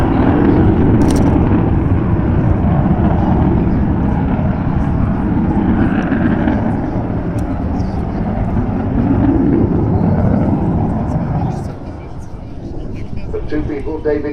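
The Avro Vulcan XH558 bomber flies at the 2014 Farnborough Airshow, a loud, sustained jet roar that swells and eases slightly as it banks, with talk running over it.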